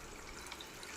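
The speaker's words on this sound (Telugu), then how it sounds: "కొంచెం పోస్తాను వాటర్, ఎందుకంటే మసాలా అన్నీ వేసుకుంటాం కాబట్టి చిక్కు పడిపోద్ది." Water poured into a pan of mango curry, a soft continuous trickle and splash, faint and steady, with no voices.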